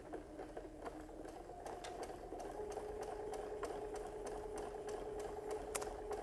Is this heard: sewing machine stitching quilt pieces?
yes